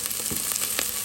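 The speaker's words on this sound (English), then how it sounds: "So we're gonna saute garlic and onion" Garlic and onion sauteing in a pan, a steady close sizzle with a couple of soft stirring scrapes and no talk.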